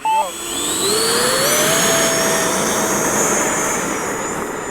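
RC model jet engine spooling up to a loud, sustained turbine whine with a rising pitch as the jet flies, close and dominant, with brief voices underneath.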